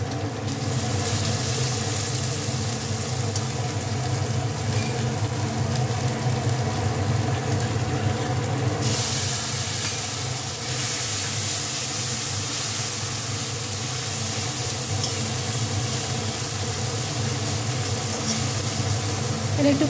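A spice paste of ground cumin, whole cumin, ginger and chili paste fries in a pan, giving a continuous close sizzling hiss that stays steady throughout.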